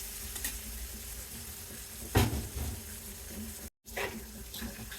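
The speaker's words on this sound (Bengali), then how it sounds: "এক এক করে মাছগুলি আমি এখন ছেড়ে দিই।" Fish pieces dropped one by one into hot mustard oil hiss and sizzle softly, with a sharper crackling burst as a piece goes in, steady faint bubbling around it.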